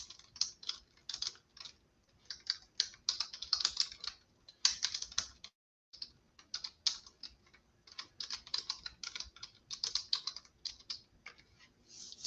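Typing on a computer keyboard, quick irregular bursts of light key clicks close to the mic, with one brief pause midway and no talking.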